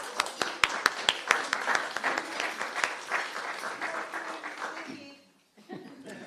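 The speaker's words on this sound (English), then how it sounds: "can we just give Kim an applause" Audience applause for a woman named Kim at a talk, sharp claps at first giving way to a dense, steady round of clapping from the room before fading out near the end.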